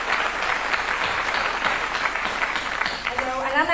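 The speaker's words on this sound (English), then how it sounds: "We should applaud this orchestra." An audience at a London stand-up show applauds the orchestra with sustained, dense clapping from a full house, steady throughout as a voice speaks over it near the end.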